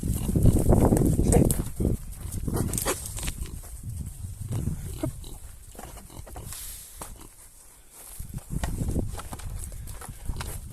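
Hungry goats move about in a cool shed. Hooves shuffle and clatter, and bodies knock about at close range in an irregular, restless rhythm, with no talk over it.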